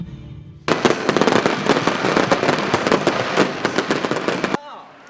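A dense, loud barrage of festival fireworks over the Namgang River in Jinju, South Korea crackles and bangs in rapid succession for several seconds, then stops abruptly.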